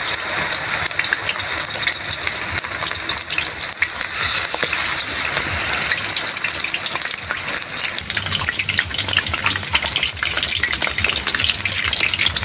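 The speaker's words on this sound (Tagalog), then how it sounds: "piprito na natin" Battered chicken pieces frying in hot oil, a loud, steady sizzle and crackle that holds throughout with no pauses.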